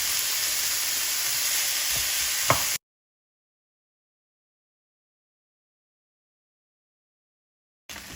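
A pound of ground beef browns in a skillet with a steady, close, hissing sizzle for under three seconds, a faint stirring scrape within it, before the sound cuts out.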